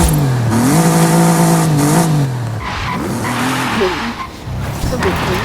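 A car engine in Forza Horizon 5 roars loudly and steadily, its pitch climbing and falling through gear shifts, while tires squeal and skid through corners.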